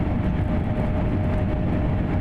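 An ICE high-speed train in the Train Sim World 2 simulation on the Cologne high-speed line rumbles steadily, a dense, continuous low running roar with no voices.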